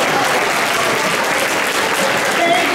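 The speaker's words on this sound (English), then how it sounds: "stand up and give yourselves a round of applause" An audience at a Passport to Excellence event featuring Dawn Baker of WTOC gives itself a round of applause while standing: loud, dense, steady clapping that fills the whole stretch with no voices on top.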